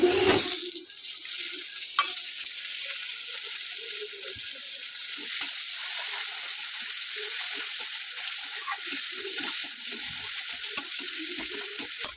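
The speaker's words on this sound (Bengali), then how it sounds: "এবার আমি এর মধ্যে টমেটো কেটে নিয়েছি, তো এবার টমেটোগুলো আমি দিয়ে দিচ্ছি" Chopped tomatoes sizzle in a pan of onions already fried until red-brown, with steady frying hiss and repeated stirring scrapes throughout, loud and close, with no talking.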